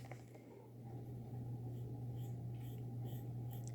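Pencil scratching softly on skin while a brow outline is drawn freehand, a faint continuous sketching texture over a steady low hum, no one talking.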